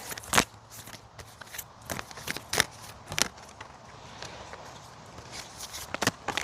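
A deck of tarot cards is shuffled by hand in a series of sharp, papery riffles and snaps, irregular bursts spread across several seconds, fairly close but quiet, with no talking.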